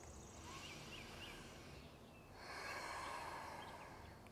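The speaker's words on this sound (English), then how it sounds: "Let's take one more breath here." A person breathing slowly through a balancing vinyasa yoga flow: one long, airy inhale followed by a brief pause and a fuller, slightly louder exhale, soft and close with no talking.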